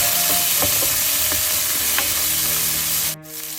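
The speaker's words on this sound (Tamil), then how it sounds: "கட்டி வச்சிருக்கிற கருவேப்பிலையை சேர்க்க போகிறேன்" Curry leaves hit hot oil for a fish cutlet and set off a loud, dense crackling sizzle close by, with a few stirring taps, before the sound drops away abruptly at the end.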